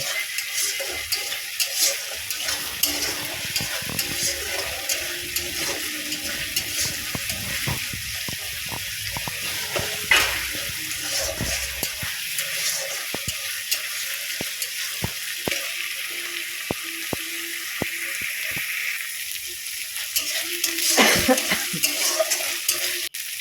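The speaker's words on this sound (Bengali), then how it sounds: "দিয়ে খুব সুন্দর করে নেড়ে চেড়ে কষিয়ে নেব" A paste of ginger, green chili, garlic, cumin and coriander fries in oil for a potato, taro and fish curry, with a constant sizzle and repeated sharp clicks and scrapes of the stirring spoon.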